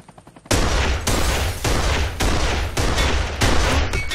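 Sustained automatic gunfire in the shooter game Kane & Lynch: Dead Men, a dense, loud barrage of overlapping bursts with brief pauses, continuous for about four seconds.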